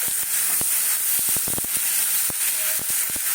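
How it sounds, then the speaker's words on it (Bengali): Vegetables with a little oil are stirred in a pan for momo filling. A soft, continuous sizzle runs underneath while a utensil clicks and taps against the pan in irregular bursts, loudest around the middle. "সবজির সাথে জাস্ট একটু তেল দিয়ে নাড়িয়ে দিচ্ছি"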